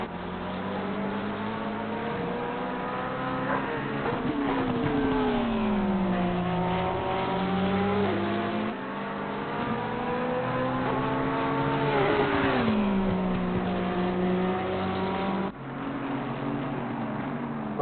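GT3 race cars lap Barcelona in the sim game Assetto Corsa Competizione, their engines revving and shifting through gears in rising and falling sweeps, several cars droning together at a steady moderate level with no talk.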